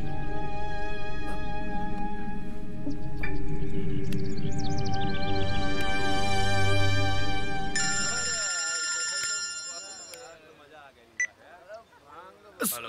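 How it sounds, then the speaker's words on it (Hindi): A telephone ringtone rings repeatedly in a Bhojpuri action film scene, loud melodic electronic rings that stop partway, followed by a quieter stretch with faint sounds. "सूरज के फोन लगाओ।"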